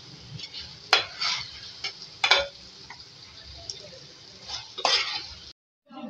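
Okra curry with chopped green coriander is stirred in a pan: a soft background sizzle under several sharp spatula scrapes, ending abruptly.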